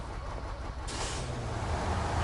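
A diesel truck engine idles in the snowy off-road game Snowrunner, a steady low rumbling drone with a brief hiss of air partway through, close and continuous with no talk.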